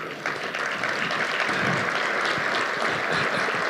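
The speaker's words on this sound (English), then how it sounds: "Let's give a big round of applause to David and Kristen Lafreniere." Steady applause from a crowd at an awards luncheon, dense and sustained clapping filling the room at an even level throughout.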